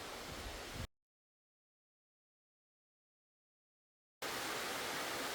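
Seonnyeo waterfall in the Sulak valley of Daedunsan, Nonsan, gives a steady broadband rushing roar that cuts to total silence for about three seconds and then returns just as strong.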